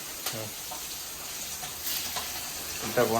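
Onions fry in oil with mustard seeds, fenugreek and curry leaves, a soft steady sizzle with light stirring, while brief bits of talk come and go over it.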